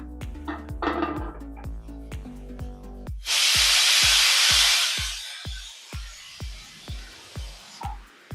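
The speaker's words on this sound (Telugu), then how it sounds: "కుక్కర్ మూత పెట్టి 4-5 విజిల్ వచ్చే వరకు ఉడకనివ్వాలి." A pressure cooker of chickpeas on the stove lets out a loud, sustained steam whistle for about two seconds, preceded and followed by a steady series of sharp rhythmic rattling clicks.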